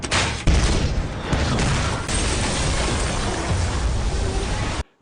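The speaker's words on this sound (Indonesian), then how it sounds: "Edo malah menggunakan meriam yang membuat Paruk lari terbirit-birit turun ke bawah." A dense, continuous barrage of heavy booming cannon blasts and bursts, loud and close, rolling on for several seconds before cutting off abruptly.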